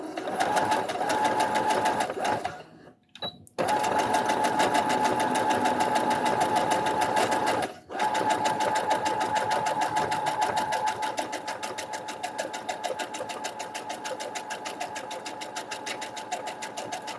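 A sewing machine runs steadily as it stitches a hoodie, making a close, loud, continuous whir with two brief stops early on before it carries on.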